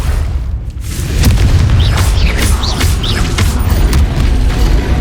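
In Hogwarts Legacy, the Confringo explosive spell goes off as a loud, close, deep boom with rumbling blasts and crackling debris, plus a few brief whooshing tones over continuous battle noise.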